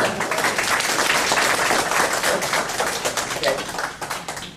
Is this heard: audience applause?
yes